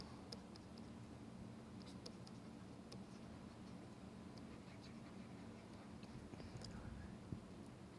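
Chalk or marker writing on a board during a classical mechanics lecture makes faint, scattered taps and scratches over steady room noise, with no speech.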